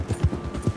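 Horse hooves clip-clop on the ground in Red Dead Redemption 2, a quick run of close, soft thuds in an uneven trotting rhythm.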